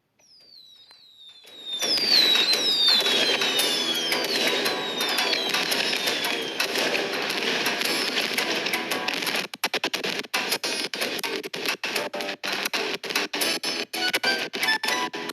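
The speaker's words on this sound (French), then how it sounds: "Le feu d'artifice a commencé." Fireworks in the Yo-kai Watch video game, a dense, loud burst of crackling explosions with whistling rises, then choppy rapid bangs continuing throughout, with no talking.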